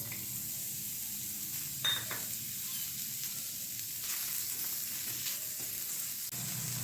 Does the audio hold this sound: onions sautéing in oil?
yes